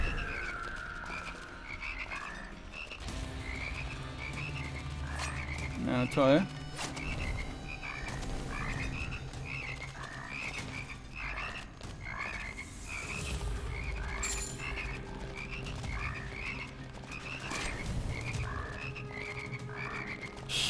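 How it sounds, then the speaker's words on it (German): Frogs croak repeatedly in the first-person shooter Immortal Redneck, a steady chorus of game croaks running through the whole stretch alongside game effects, with a brief comment from a player. "Jetzt kommen wieder Frösche."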